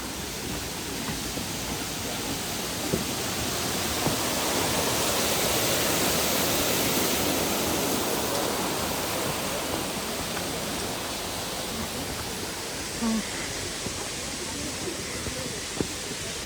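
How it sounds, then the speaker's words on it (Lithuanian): Running water along an outdoor walk in Vilnius, a broad, steady rushing hiss like a small weir or stream, close and constant throughout. "Va, bėga vanduo."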